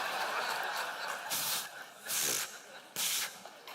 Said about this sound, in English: And I spray me some lighter fluid on there.